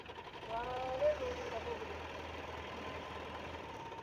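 A well-digging machine's engine runs at a steady low idle while its digging box is lowered into a well, a faint, even mechanical drone heard at some distance with a brief squeak early on.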